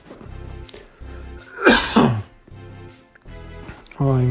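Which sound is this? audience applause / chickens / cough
cough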